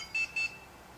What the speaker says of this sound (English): Here are the first two low frequency beeps, that's the hour.